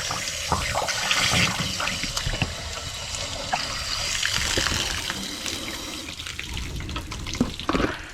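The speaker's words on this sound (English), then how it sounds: "we'll let all that water drain out one last time" Water gushes and splashes steadily as it drains out of an RV, a continuous rushing drain with no pause, loud and close.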